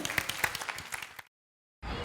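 A short round of clapping from an audience for a woman being honoured, lasting just over a second before cutting to silence, then resuming briefly.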